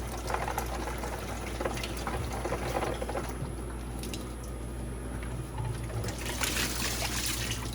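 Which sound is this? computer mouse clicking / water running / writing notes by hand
water running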